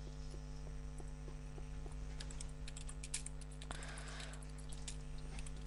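Clicks of a computer keyboard being typed on during a Minecraft Skyblock session, fairly soft and uneven, sitting over a steady electrical hum, with a busier flurry of keystrokes midway.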